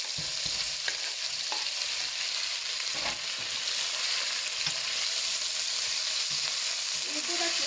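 Steady, close sizzling of sausage frying in a pan, with occasional clicks and stirring scrapes; no talking.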